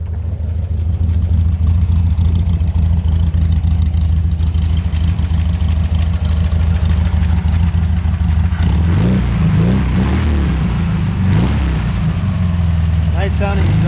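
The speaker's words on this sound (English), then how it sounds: "Nice sounding exhaust." The air-cooled engine and exhaust of a 1966 VW Beetle idle with a steady low, burbling drone, then rise into a few short revs near the end, loud and close with no talking over it.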